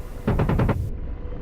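Gunfire from an Operation Condor mission over Afghanistan in the combat game DCS World, aimed at a wall: a quick burst of about five rapid, evenly spaced shots, loud and close, ending abruptly into quiet.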